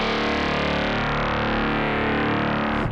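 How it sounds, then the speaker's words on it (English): A Kinotone Sparks stereo modulating analog harmonic processor gives a steady, dense, buzzing tone with a slowly rising filter, loud and continuous for about three seconds before it cuts off. "I want you to hear that sort of slow rise on the filter"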